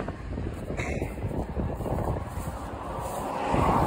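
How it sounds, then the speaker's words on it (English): Strong, steady wind with gusts near 60 mph roars and buffets the microphone throughout, swelling louder toward the end, with faint rumbling underneath. "this weather around here, like 60 mile an hour gusts"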